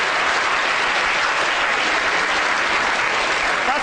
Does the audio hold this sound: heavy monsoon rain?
no